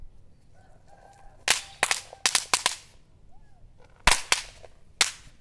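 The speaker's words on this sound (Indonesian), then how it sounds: "Eksperimen yang ketiga, 3 pak petasan bantingan kita nyalakan" About a dozen throw-down bang snap firecrackers crack in quick, irregular clusters, each pop loud, sharp and close against a quiet outdoor background.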